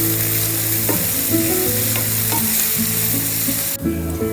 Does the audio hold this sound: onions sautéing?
yes